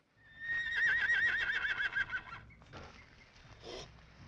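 A horse whinnies loudly in a scene from the film Seven Samurai, a long wavering neigh followed by snorts and shorter cries, with faint background rumble and no speech.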